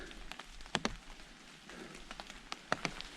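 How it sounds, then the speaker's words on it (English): Rain falls through a wet red pine forest along the Superior Hiking Trail, soft steady patter with scattered close droplet taps and occasional sharper hits, fairly quiet and without voices. "Even though everything's wet and it's raining"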